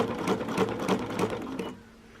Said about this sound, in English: you can listen to the sound that your machine makes to try to have it at the same speed, your needle